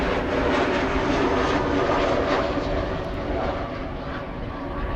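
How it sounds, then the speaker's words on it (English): EasyJet Airbus A320neo arriving to land at Amsterdam Schiphol Airport, a loud, sustained engine roar close by that eases slightly toward the end. "Behind it, EasyJet arriving from Stansted. That's an A320neo."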